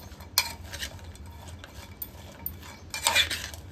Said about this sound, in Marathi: त्याच्यामध्ये ह्याला टाकते आणि चांगलं मिक्स करते.